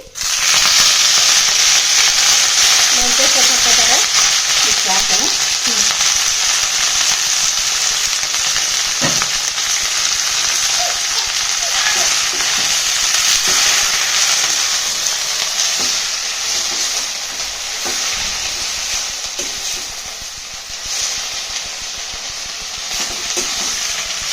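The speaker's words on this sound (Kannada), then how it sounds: "ಮೆಂತ್ಯ ಸೊಪ್ಪು ನೋಡ್ರಿ ಎಣ್ಣೆ ಹಾಕಿ ಫ್ರೈ ಮಾಡಿದ ಕೂಡಲೇ ಸ್ವಲ್ಪ ಆಗಿಬಿಡ್ತದೆ" Fenugreek leaves frying in hot oil for a North Karnataka kadubu dish, a loud steady sizzle and crackle running throughout with occasional stirring scrapes, easing slightly toward the end, with no talking.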